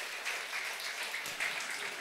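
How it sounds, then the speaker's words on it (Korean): A church congregation gives a soft, steady round of applause during a Sunday service, a fairly faint wash of many hands with no clear talking. "박수 한번 드리겠습니다"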